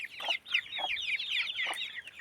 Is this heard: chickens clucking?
yes